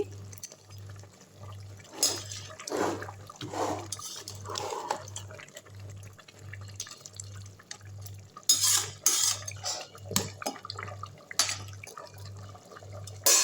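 Crab biryani being gently stirred in a pot, soft scattered clinks and scrapes of a utensil against the pot over a low, steady pulsing hum.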